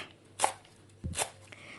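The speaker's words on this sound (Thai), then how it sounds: "ในการที่จะ หั่นใบชะพูแอดมินก็จะทำให้ซอยประมาณนี้" A knife slices through fresh cha-plu (wild betel) leaves on a board for a southern Thai coconut curry with sweet snails, two quick, crisp cuts close up in a quiet kitchen.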